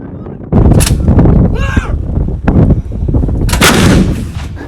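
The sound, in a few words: C-RAM defense system firing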